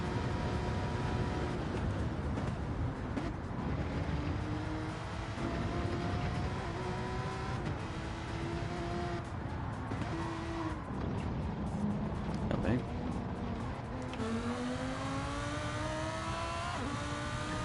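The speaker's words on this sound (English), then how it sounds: "Engine noise." Race car engine at the Nürburgring in a racing video game, revving continuously with repeated rising pitch sweeps through gear changes, steady and loud throughout with no voices.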